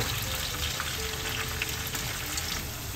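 Ripe tomatoes sautéing in a pan for mung bean stew, a steady close crackling sizzle with light stirring, continuous and even, with no talk.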